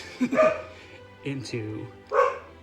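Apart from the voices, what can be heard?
dog barking in the background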